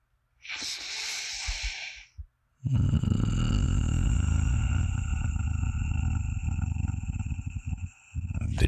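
A man imitating a cat's gentle purring with a soft, breathy rasp, first a short burst, then a longer rumbling purr that is steady and close, with no speech over it.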